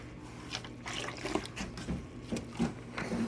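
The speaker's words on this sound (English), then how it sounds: "I'm going to drain some through the valve" Sanitizer liquid drains through a fermenter valve in quiet, uneven splashes and trickles, with soft drips and gurgles over a low hum.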